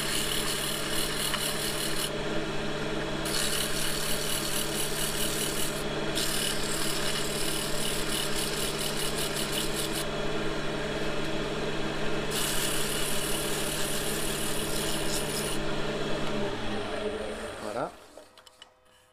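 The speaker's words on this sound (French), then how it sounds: "là, je vais poncer maintenant." Sandpaper works the inside of a turned wooden piece spinning on a wood lathe, a continuous rough rubbing hiss over the motor's steady hum, in pulses as the paper is pressed on and lifted, ending as the lathe winds down.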